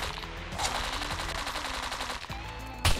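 Rapid automatic gunfire rattles in the survival video game SCUM as a gun's magazine is emptied in one long sustained burst, loud and close, ending in a heavier blast near the finish.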